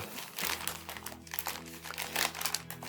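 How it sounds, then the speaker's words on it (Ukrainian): Scissors cutting open a sealed, heat-welded plastic package holding a 2025 Ukrainian 2-hryvnia commemorative coin, heard as close, continuous crinkling and crunching of plastic with no talk. "Тут у нас запечатано, запаяно, тому використовуємо ножиці для розпакування."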